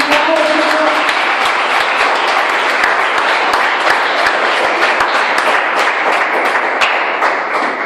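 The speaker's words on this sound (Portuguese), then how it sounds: "aplauda Jesus" Church congregation applauding loudly and steadily throughout, dense clapping with sharp individual claps standing out, a voice briefly heard at the start over the crowd.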